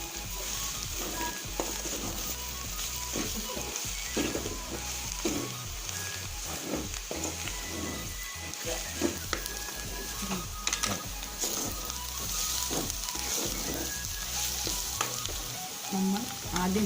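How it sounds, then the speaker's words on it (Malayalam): Crushed masala spice paste frying in hot oil gives a steady, close sizzle, with the occasional scrape and stir of a spoon in the pan and no talking. "പിന്നെ അത് എണ്ണയിലേക്ക് ഇട്ട് കൊടുക്കാം. ഇത് കുറച്ച് നേരം വരട്ടി കൊടുക്കുക."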